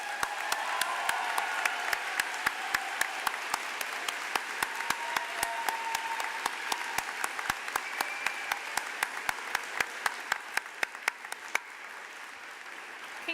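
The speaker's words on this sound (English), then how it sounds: "Please join me in giving them a round of applause." An audience at a spring commencement ceremony applauds steadily for graduates, a dense and fairly distant wash of clapping with a few sharper individual claps standing out, fading slightly near the end.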